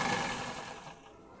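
A sewing machine runs long, loose basting stitches along a lined suit, a fairly close steady whirr that fades off over a second and a half with no voices.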